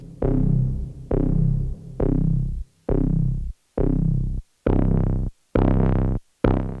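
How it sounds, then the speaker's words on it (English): Bass synth on a Novation Circuit playing a sequence of eight sustained, buzzy low notes with short gaps between them, loud and alone with no talking. "And this bass"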